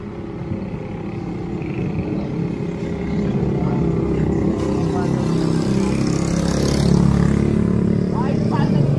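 A motorcycle engine idles and runs with a low, steady rumble that swells louder partway through, while people talk over it close by.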